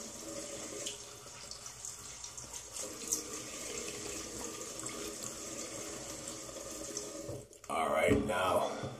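Tap water runs steadily into a sink to rinse shaving soap from a vintage Williams shave stick, a continuous close wash that swells louder near the end.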